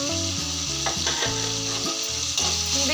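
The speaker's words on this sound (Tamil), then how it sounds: "அந்த இஞ்சி பூண்டு ஃப்ளேவர் போகிறது வரைக்கும் நல்லா வதக்கிக்கலாம்" Ginger and garlic sautéing with tomatoes in a pan for Tamil-style chicken gravy, a close, steady sizzle and frying hiss with bursts of stirring, heard alone under a layer of tonal background music.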